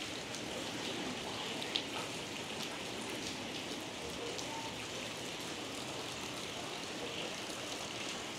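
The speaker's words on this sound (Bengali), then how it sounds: "আবার এখন বৃষ্টি হচ্ছে।" Steady rain falling in Lembongan, Indonesia, an even hiss of drops spread across the whole stretch, moderately faint and unbroken, with one brief tap standing out near the start.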